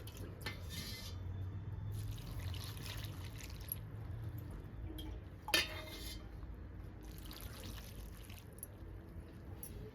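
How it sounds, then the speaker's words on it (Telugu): Water pours into a pan of bitter gourd curry in a few soft splashing bursts, with a brief metallic clink partway through, all fairly quiet. "తర్వాత వాటర్ వేసుకోవాలి"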